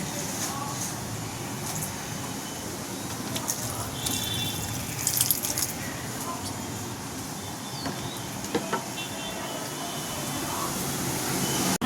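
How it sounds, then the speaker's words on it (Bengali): Potted plants in a flat are watered with a continuous trickling, splashing flow and a few drips, while a voice speaks over it. "প্রতিদিনকারই কাজ গাছে জল দেওয়া"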